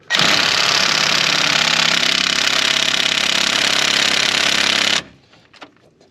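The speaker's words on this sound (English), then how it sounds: "We're now gonna properly torque this down." Impact wrench or air tool torquing down hub bolts on a 2007-2014 Chevrolet Silverado, one loud continuous whirring hammer burst of about five seconds, then it cuts off into quiet faint clatter.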